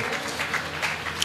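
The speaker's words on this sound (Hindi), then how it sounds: "अगर आश्रम का कार्यक्रम है एक बार जोरदार तालियां बजाएं।" A brief burst of audience applause at an ashram comedy poetry gathering, with many hands clapping in a steady, moderately loud rush.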